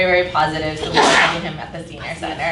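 At a city community and senior services commission meeting, one sharp sneeze bursts out while a person keeps speaking, and the talk runs loud and close around it.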